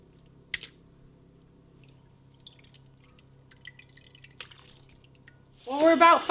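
A few sparse, faint drips of water fall while eggs are washed in hot water, with a voice starting to speak near the end.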